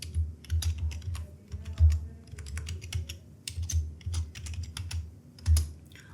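Steady typing on a computer keyboard while entering text into an Excel spreadsheet, a continuous run of close, quick key taps with occasional heavier strokes, alone without any voice.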